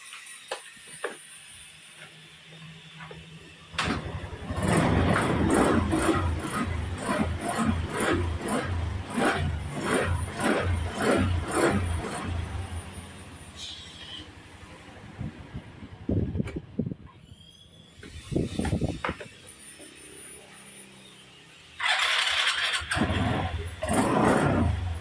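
A motorcycle engine is kicked over and catches, then runs loudly with a rapid sputtering idle before dropping off and revving again.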